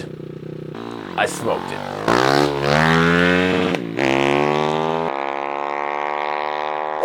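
A high-priced pocket rocket mini motorcycle races against an RC car. Its small engine whines and revs sharply up and down, then holds a loud, climbing, buzzing note close by, with a voice speaking briefly over it.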